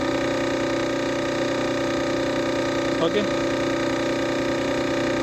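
A car engine idling steadily on a workshop bench during an ignition timing practical, a constant loud mechanical drone with a brief short word spoken over it midway.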